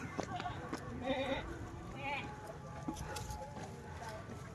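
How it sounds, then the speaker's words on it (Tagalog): Several goats bleat in short bursts amid outdoor noise and people talking, some calls close and others farther off. "Daming kambing. Kambing yan, no?"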